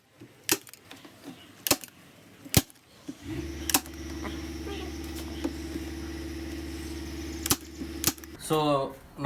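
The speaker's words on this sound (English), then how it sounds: "Now we'll stapler it." Staple gun firing into a sofa base during upholstery repair, several sharp, loud single shots spaced irregularly, with a steady motor hum running underneath for most of the stretch.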